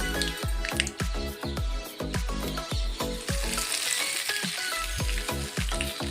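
Steady, crackling sizzle of tempering for coconut chutney frying in hot oil, close and continuous, with a few sharper pops throughout.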